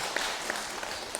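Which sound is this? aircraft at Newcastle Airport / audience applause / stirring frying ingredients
audience applause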